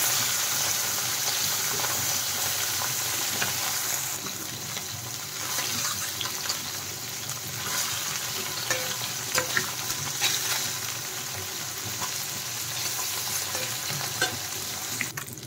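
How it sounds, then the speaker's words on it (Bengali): Puti fish frying in hot mustard oil in a wok, a steady broad sizzle holding at even loudness throughout, with faint clinks and brief crackles near the pan and no voices. "তেল ভালোভাবে গরম হয়ে গেছে, মাছগুলো এখন ছেড়ে দিলাম তেলে।"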